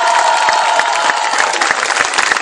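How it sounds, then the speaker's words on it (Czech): An audience at a town's historical knights' festival claps steadily and loudly, dense applause with a few scattered cheers throughout. "zatleskejte jim, protože oni to s námi platí"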